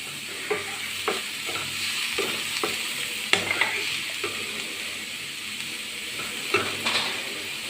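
A beef mixture with green chili and pepper is stirred and fried in a pan. A constant sizzle sits under repeated sharp scraping clicks from the spoon against the pan at an irregular pace, close by, with no voices.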